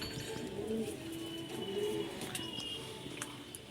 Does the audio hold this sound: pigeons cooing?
yes